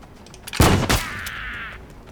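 Two loud, close gunshots fire in quick succession in a horror video game, the second trailing into a ringing metallic tail that fades over the following second.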